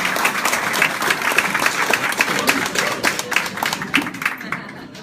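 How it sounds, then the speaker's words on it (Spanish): Church congregation applauding during a Spanish-language worship service, steady dense clapping throughout that thins slightly near the end, with voices faintly mixed in. "aplauso al Señor"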